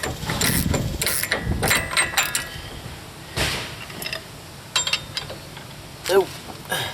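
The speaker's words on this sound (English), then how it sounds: "put my 32mm socket on my ratchet, just so we can run it down until it's snug" A ratchet driving a 32mm socket runs down a wheel hub nut on a Ford Explorer during wheel bearing replacement, giving several bursts of clicking mechanical work in a workshop with short quiet gaps between them.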